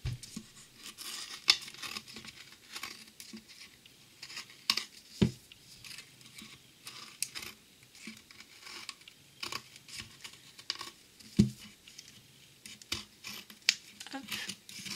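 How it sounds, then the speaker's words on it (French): Excess paper is trimmed away while making a drawing tube: quiet snips and crisp paper rustles come at irregular intervals, with a few sharper cuts standing out against a soft background. "Donc là, je vais découper le surplus."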